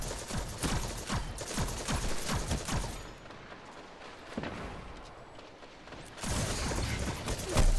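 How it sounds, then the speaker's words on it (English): Rapid bursts of shotgun fire from a first-person shooter video game crackle in quick succession, pause for a quieter stretch of mechanical clicks, then resume loudly near the end. "I'm using a lot of shotgun here."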